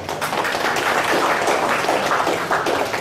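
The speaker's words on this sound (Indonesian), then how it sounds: "tepuk tangan untuk Mas Sotikun" Applause at an event at the Candi Boto Tumpang temple site for its caretaker, a continuous dense wash of clapping holding steady and loud throughout.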